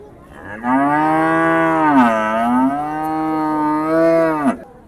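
A cow at a livestock market in Husnabad gives a single long, loud moo lasting about four seconds. It is close and heard alone.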